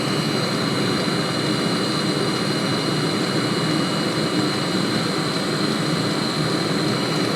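A CloneBasto diesel heater runs with a steady, loud, even roar and hiss, throttled up and holding a constant pitch with no breaks.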